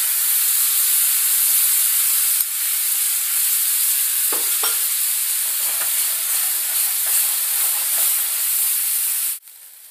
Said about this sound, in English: turn your heat down to medium and add some of your sriracha mixture.